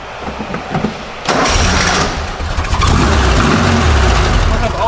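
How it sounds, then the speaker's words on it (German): A Porsche 356 engine cranks and fires with its fuel tap shut. Low churning comes first, then a sudden catch into a loud, rough running roar that holds close and steady. "Also, ich mache das Auto an."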